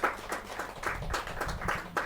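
Faint, scattered clapping from an audience at a Hindi poets' gathering, a kavi sammelan, coming in sparse bursts over a low hum.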